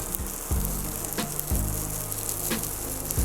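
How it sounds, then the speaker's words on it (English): A fish fillet pan-frying in a little hot oil gives a steady close sizzle. Soft thuds and knocks recur about once a second over it, with no talk. "When you have it in a hot pan, it will start browning immediately"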